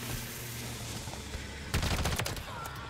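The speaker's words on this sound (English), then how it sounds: "Why y'all shooting at me?" A burst of gunfire in the video game Warzone breaks through a steady hum of game ambience, a cluster of sharp, close shots lasting about a second before fading back.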